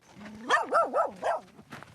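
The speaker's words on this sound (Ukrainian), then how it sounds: "всі обстріли тут супроводжує гавкіт пса" A dog at a front-line military position gives a quick series of four or five close, loud barks, followed by a fainter yip.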